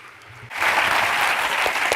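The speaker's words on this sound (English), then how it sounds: "Let's have a round of applause for Laura" A burst of audience applause breaks out suddenly and holds steady and full, a dense wash of many hands clapping in a hall at an evening tech summit.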